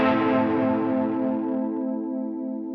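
Guitar played through a Line 6 Helix chorus effect with saw-wave modulation: a sustained chord that rings out loud and slowly fades, its tone wavering with a steady sweeping shimmer, with no one talking.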